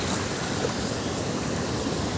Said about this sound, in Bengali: দেখেন পানির কি শব্দ বা কি একটা স্পিড, দেখেন পানির কত তীব্রতা।